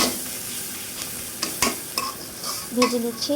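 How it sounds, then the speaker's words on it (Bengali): Chili and onion fry in a pan for a koi fish curry, a close sizzle with scraping stir strokes and a few sharp clinks over a few seconds. "কই মাছের জন্য রান্নার জন্য এখানে মরিচ পেঁয়াজটা ভেজে নিচ্ছি।"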